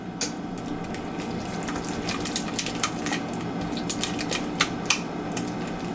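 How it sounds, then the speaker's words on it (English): Wet spiced pear and cranberry muffin batter whisked in a bowl, giving quick irregular clicking taps against the bowl over a steady background wash. "I think that's as whisked together as I'm going to get it."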